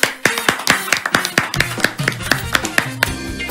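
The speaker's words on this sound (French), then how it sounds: "Applaudissements" A studio audience on the French TV game show Champion du Midi claps in time, sharp regular handclaps about four per second over upbeat show music, close and loud.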